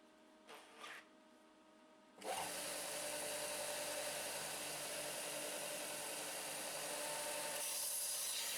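A bench grinder regrinds the tip of a tungsten welding electrode, a steady loud whining grind that starts abruptly after a brief quiet moment and runs continuously to the end.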